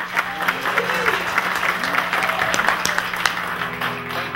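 An audience at a live music event claps and cheers for a band being introduced, a dense burst of applause heard close for a few seconds.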